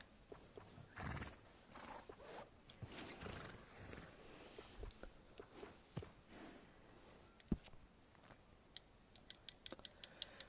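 A horse in the Red Dead Redemption 2 video game neighs and whinnies, with hoof clops and snorts in quiet, scattered bursts and no talking.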